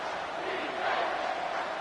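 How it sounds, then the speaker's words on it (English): Home crowd at a college football game roars as the defense faces third down, a broad, swelling wall of cheering that rises toward the middle and holds steady. "Here comes this home crowd as the defense tries to get off the field on third down"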